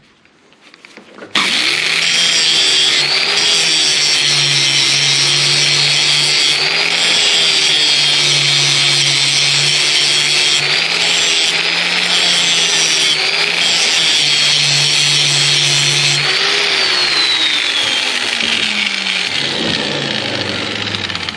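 A John Deere X320 lawn mower blade is ground on a bench grinder, the motor droning loud and steady for about fifteen seconds with a harsh, gritty scraping of steel against the wheel, the pitch shifting slightly as pressure changes, then winding down.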